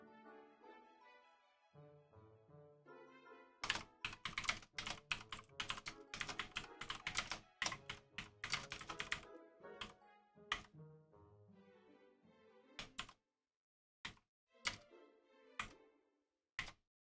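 Typing on a computer keyboard, close and quiet, a fast burst of clustered key taps that thins into a few isolated, spaced clicks toward the end, heard alone against a soft musical backdrop.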